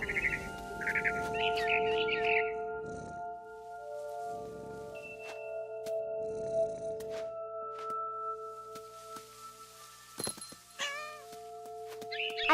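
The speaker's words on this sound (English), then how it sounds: "And suddenly, I was a cat." A cat meows several times in What Remains of Edith Finch, short pitched cries near the start and again near the end, with soft game thuds and a steady tonal background hum between them.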